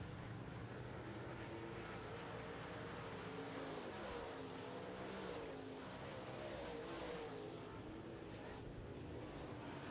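Late model race cars in a feature race roar steadily around the track while passing slower lapped cars, a continuous distant engine drone with gentle swells as cars go by.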